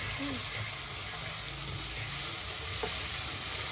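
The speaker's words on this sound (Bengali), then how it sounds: "মশলাটা কিন্তু কষানো হচ্ছে" Spice paste sautéing in a pan for kasha mangsho, a steady broadband sizzle running throughout at moderate level, with a faint clink near the end.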